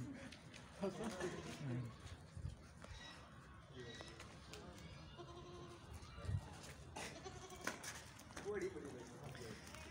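Goats bleat at a shaded goat farm with kids among the herd, scattered calls of varying pitch over rustling and hoof movement while people talk nearby.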